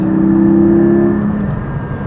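A Porsche 718 Spyder engine, driven hard, holds a loud, close, sustained rev with a strong steady tone that eases slightly toward the end.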